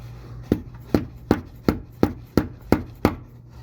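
Eight sharp, evenly spaced hammer blows driving a rear main seal into a BMW E46 engine, each a crisp knock with a short ring, steady rhythm, no talking.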